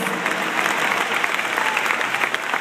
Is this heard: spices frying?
no